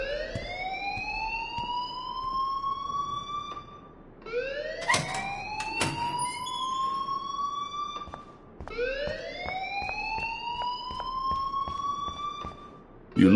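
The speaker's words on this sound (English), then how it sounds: "please turn off that alarm since that's your job" A whooping siren-style alarm rings out in the video game Life is Strange, each rising electronic wail repeating in loud sweeps, broken by sharp clicks and brief pauses.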